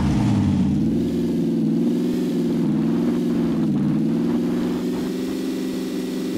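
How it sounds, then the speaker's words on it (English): A vehicle's engine in the PUBG battle royale shooter drones steadily and loudly, its mid-pitched hum dipping slightly as it pulls away, with no voices over it. "Vehicle. Yeah, I think it's leaving."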